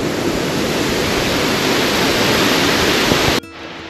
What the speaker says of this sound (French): Une très belle chute d'eau.